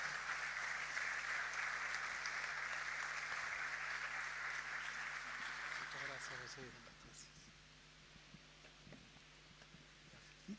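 A church audience applauds a guest speaker being welcomed to the stage, dense steady clapping that fills the room for about seven seconds, then thins and fades into quieter room noise with a few stray claps.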